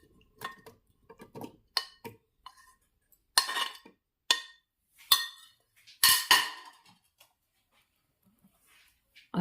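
A mixer grinder jar handled in a home kitchen while a carrot and orange drink is prepared, giving a series of sharp clinks and knocks of glass and metal, close and fairly loud, separated by short silences.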